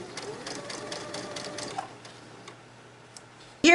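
A sewing machine stitches quilt fabric for flying geese blocks with a fast, even mechanical whir. It runs for about two seconds, then slows to sparse ticks before a loud knock at the end.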